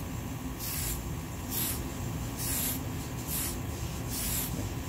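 Short hissing blasts from an aerosol can spraying surfacer onto a 1/14 scale Ford F150 plastic model, about five bursts in quick succession, close and fairly loud with no talk.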